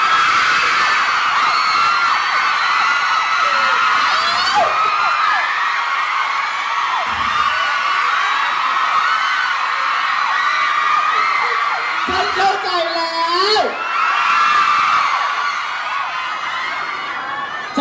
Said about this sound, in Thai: ฉันรู้แล้วแหละว่าทำไมพวกเธอถึงกรี๊ดขนาดนี้เ